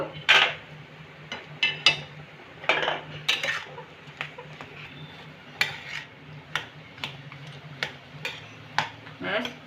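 A spoon scrapes and clinks in a pan as ground roasted cumin, coriander and dried chilli are mixed into singara filling, giving a run of sharp, irregular taps close by over a low kitchen hum.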